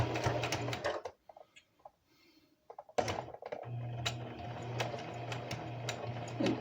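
A sewing machine running stitches in bursts: a fast mechanical whir for about a second, a pause with small clicks, then a longer steady run, close and clear.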